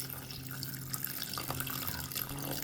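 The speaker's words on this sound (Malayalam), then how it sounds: "ഇതിനകത്തേക്ക് 1 കപ്പ് വാട്ടറും കൂടെ ഒഴിക്കാം." A cup of water is poured onto a spoonful of flax seeds in a pot for a natural hair dye, making a faint, continuous trickling splash with no voices.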